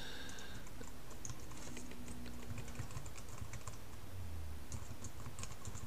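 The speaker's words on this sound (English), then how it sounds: "I stink at typing." Steady typing on a computer keyboard, a continuous run of light clicking keystrokes close to the microphone, with no one speaking.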